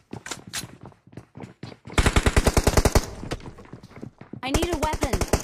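M4 rifle fire in a gunfight in the battle royale game BGMI, with rapid automatic bursts close by and a player's voice talking over the first part.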